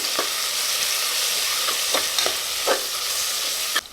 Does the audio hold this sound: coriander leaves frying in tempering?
yes